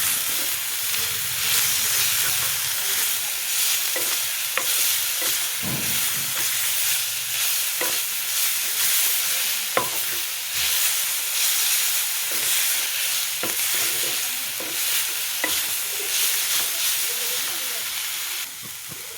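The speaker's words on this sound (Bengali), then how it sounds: "শাকটি দিয়ে এখন নাড়াচাড়া করে নামাই নিই" Leafy greens with onion sizzle and hiss steadily in a pan, broken by scraping and clattering stirring strokes, with no talking.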